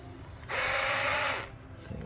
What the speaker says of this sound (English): And once you get it started, then you move your drill up.